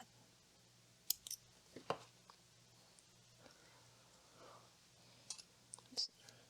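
Scissors snip through bead loom thread in a few quick, crisp cuts, faint and close against a quiet room with a low background hum.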